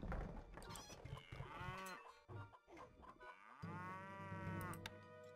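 Cattle lowing beside a cowshed in the Stronghold strategy game, several long, drawn-out moos overlapping one another, loud and close, with no talk over them.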